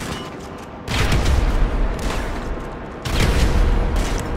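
Gunfire in GTA 5 Online: heavy, booming bursts of shooting that arrive in two loud waves, sustained and dense, with no clear pauses between shots.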